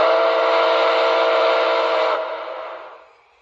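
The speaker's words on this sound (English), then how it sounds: "this is the standard whistle." An MTH HO 2-8-4 Nickel Plate Road #765 model locomotive sounds its standard steam whistle in a single loud, close, chord-like blast lasting about two seconds, then trailing off in a softer fading tail, with no voices.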